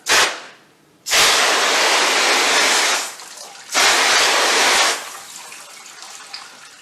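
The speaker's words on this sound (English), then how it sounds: "you simply take your ordinary water and you rinse" Ordinary water sprays onto a vinyl awning during rinsing after graffiti cleaning, coming in two long, loud hissing bursts separated by short pauses, with quieter dripping between.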